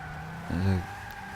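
A Toyota Sport 800 brakes hard in a racing game, with a brief tire skid swelling and fading over a steady engine hum.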